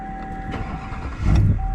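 Plugged-in Duramax diesel pickup engine starting in the cold, a loud close cranking that catches and swells into a rough idle within about two seconds, with no voices.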